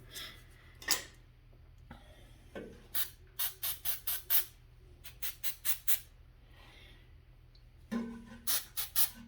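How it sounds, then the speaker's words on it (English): Carburetor cleaner sprayed into bolt slots and onto bolts on a 1970s 4HP Tecumseh snowthrower engine, as a series of short, sharp aerosol hisses in quick bursts, close and fairly loud. "I'm going to spray some card cleaner in those bolt slots and on these bolts to clean them before I Loctite them in"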